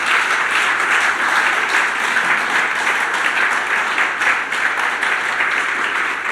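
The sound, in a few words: church congregation applause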